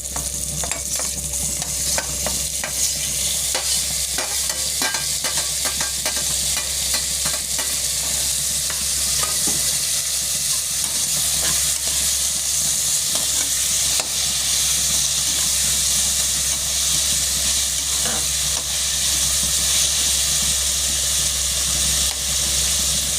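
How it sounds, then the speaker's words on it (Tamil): Chopped tomatoes sauté in a hot pan on a stove, giving a steady, close sizzle with bursts of hiss and a few stirring scrapes throughout, without any talking. "நான் ஏற்கனவே ஸ்டவ் பற்ற வச்சு பேன் போட்டதுனால சீக்கிரம் வதங்கி."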